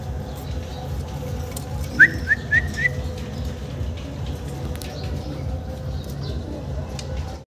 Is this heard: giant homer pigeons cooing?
yes